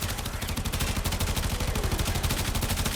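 Sustained rapid fire from the Tennora Prime minigun in Warframe, a dense, continuous mechanical rattle of shots at a fast steady rhythm, loud and close throughout without a break.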